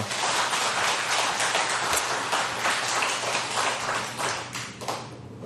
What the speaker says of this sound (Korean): 우리 박수를 한번 한번 해주십시다.